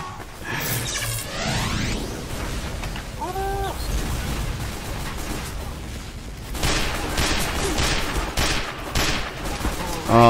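Rapid gunfire from a Team Fortress 2 match crackles in dense bursts, loud and close, mixed with game effects and a sharp louder flurry near the end.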